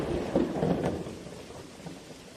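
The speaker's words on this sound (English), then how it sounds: "The rhythm of footsteps mixing with rain." Rain falls steadily while a low roll of thunder rumbles near the start and fades, leaving a soft, continuous patter.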